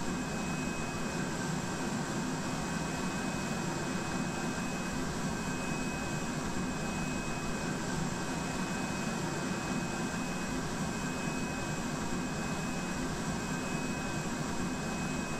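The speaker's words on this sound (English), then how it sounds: "So you can see the APUs running there." The APU of a PMDG 747 in a flight simulator game runs as a constant whining hum with a thin high tone, steady and unchanging throughout.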